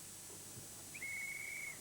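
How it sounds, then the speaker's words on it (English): A short, faint, thin whistle blast rings out once in a quiet room, a steady high tone lasting under a second. "When I blow my whistle,"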